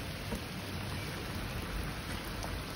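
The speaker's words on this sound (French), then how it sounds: "Dans la Nouvelle-Zélande, mais putain la pluie!" Steady rain falls in New Zealand, an even hiss of drops on surfaces that stays faint and constant throughout, with no talking.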